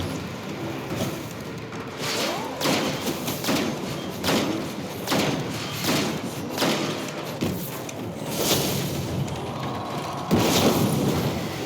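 Exploder shanks blow up in Destiny 2 as a run of heavy, booming thuds over dense rumbling noise, with irregular blasts throughout.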